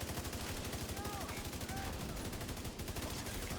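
Rapid automatic gunfire rattles without a break during a fight in the video game The Division 2, a dense, even stream of shots filling the whole stretch at a moderate level.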